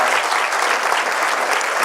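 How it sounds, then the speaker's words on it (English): An audience at a public lecture on water and public health claps steadily for a speaker, a dense, even wash of applause from a full room. "Please join me in giving Professor Joan Rose a big round of applause."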